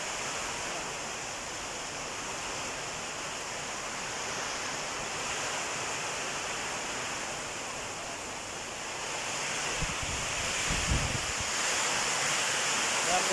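Loud, steady roar of strong typhoon wind in Nueva Ecija, Philippines, under signal no. 3, buffeting the microphone, with a few low thumps near the end.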